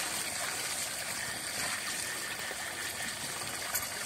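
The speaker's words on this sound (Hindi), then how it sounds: "तो इस पेटीकोट को भी अच्छी तरह से धो लेते हैं हम लोग।" Hand-washing laundry such as a petticoat and T-shirt in water, with a steady continuous splashing and sloshing wash close by, loud and unbroken throughout, no voices.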